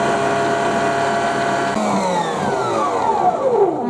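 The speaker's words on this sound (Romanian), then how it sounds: "Băgăm 120 de grame de zahăr și punem la mixat" An electric hand mixer whips cream with sugar in a bowl, a steady loud motor whine whose pitch shifts and slides midway as the beaters work the thickening mixture.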